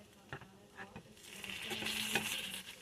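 Eggs frying over easy in a home breakfast pan: a few soft utensil taps at first, then a quiet, steady sizzle that swells and stays faint and close.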